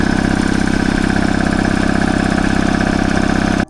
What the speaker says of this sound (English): I like that little compressor. I got that at Northern Tool. That's an Ingersoll Rand.